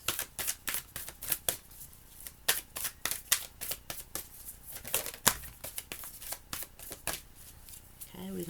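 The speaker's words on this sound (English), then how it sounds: "give me a soul card for Aries" Tarot cards are shuffled close up in quick papery riffles and slaps, repeated in uneven bursts through the whole stretch.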